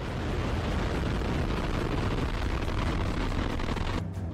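Launch of a new Russian military missile, a loud sustained roaring rumble with crackling bursts that holds throughout and drops away abruptly at the end.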